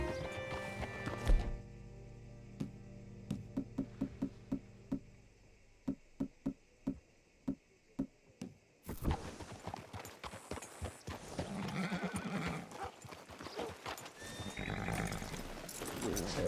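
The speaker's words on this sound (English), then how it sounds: "Hitch your horse up here." Horse hooves clip-clop in a steady series in Red Dead Redemption 2, first alone and then under busier game ambience and voices, with a brief whinny near the start.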